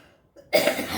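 A single harsh cough bursts out after a brief quiet moment, close and fairly loud.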